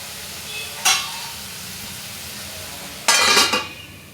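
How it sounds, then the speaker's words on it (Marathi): Radish pods cooking in oil in a covered pan give a steady soft sizzle, broken by two brief clattering bursts of a metal lid or utensil against the pan. "आता आपण यावर झाकण ठेवून 5 मिनिटं या शेंगा वाफवून घेऊया."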